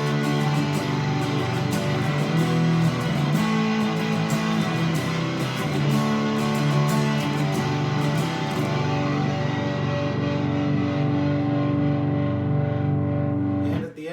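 Distorted electric guitar chords from a Les Paul or SG in standard tuning, middle pickup position with volume and tone full, played as sustained heavy rock chords that fill the clip and ring out to a fade at the end.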